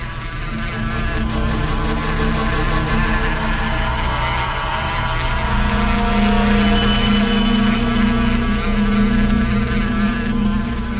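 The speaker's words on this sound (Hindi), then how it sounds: "और मधुमक्खी के छत्ते को छेड़ना" A honeybee hive giving off a steady, dense droning buzz that stays loud and continuous throughout, with a rising tonal hum partway through.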